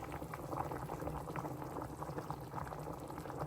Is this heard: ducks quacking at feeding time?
no